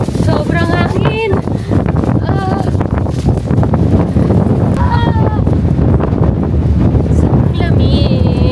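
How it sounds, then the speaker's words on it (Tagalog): Strong wind buffets the microphone beside the Bosphorus in Istanbul, a loud continuous roar throughout, with a voice speaking and bright gull-like cries over it. "Sobrang hangin!"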